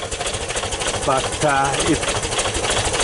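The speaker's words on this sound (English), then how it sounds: "So otherwise it's a good running engine. Probably idles a little bit low" A 1977 Volkswagen Sunliner campervan engine idles low and steady with an even mechanical patter throughout, while someone talks briefly over it midway.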